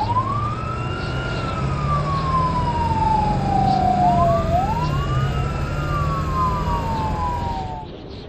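An ambulance siren from a children's cartoon wails in long rising and falling sweeps, loud and continuous, with a second overlapping tone joining midway and no talk.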